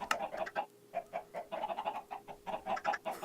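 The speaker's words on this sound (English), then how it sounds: "just throwing eggs at chickens" Chickens cluck in Minecraft, a quick run of short, bright clucks in a steady rhythm, fairly close and alone with no talk.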